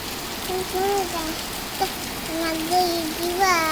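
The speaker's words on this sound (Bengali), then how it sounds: "বাইরে কি পড়তেছে বৃষ্টি" Steady rain hisses in the background while a child and an adult talk over it.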